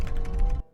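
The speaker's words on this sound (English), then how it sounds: "don't excuse my typing" Rapid keystrokes on a computer keyboard typed with long fingernails, a close, loud run of clicky taps that stops abruptly into near silence.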